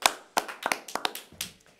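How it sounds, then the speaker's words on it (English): A small group gives quick, scattered hand claps for a contest winner at a school morning news broadcast, about a dozen close, sharp claps over under two seconds, fairly quiet. "We'll clap."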